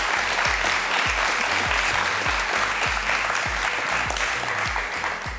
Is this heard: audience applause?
yes